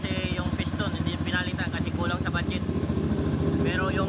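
A Rusi 150 motorcycle engine idles close by with a steady, even low chug and no knocking, while a voice talks over it throughout.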